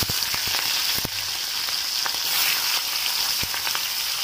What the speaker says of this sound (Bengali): এবার আমি মাছের মাথাগুলো দিয়ে লাল লাল করে আমি ভেজে নেব।